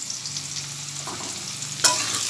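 A watery spice paste of cumin, coriander, ginger, green chilli, turmeric and salt poured into hot oil, giving a steady close sizzle and frying hiss that suddenly intensifies near the end as the liquid hits the pan.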